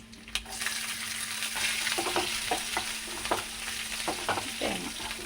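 Onion frying in a pan after mustard seeds and chillies, a steady close sizzle with intermittent scraping stirs and small clacks of the utensil against the pan, no voices.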